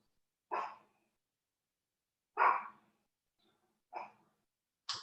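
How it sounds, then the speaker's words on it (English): Four single barks from a dog at irregular intervals, separated by silence, moderately close. "Can you hear that dog barking?"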